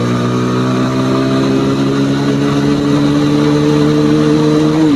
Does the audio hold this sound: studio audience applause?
no